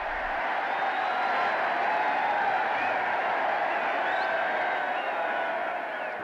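A large crowd cheers and applauds the Queen as she appears on the Buckingham Palace balcony, a dense continuous roar of distant voices and clapping that holds steady throughout.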